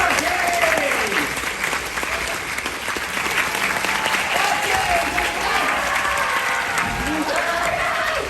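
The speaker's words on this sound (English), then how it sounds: "So put your hands together, everybody. Help me in welcoming Mr. Mark James." A theater audience at Universal Studios Orlando's Horror Make-Up Show claps and cheers to welcome makeup artist Mark James, dense steady applause throughout with some crowd voices mixed in.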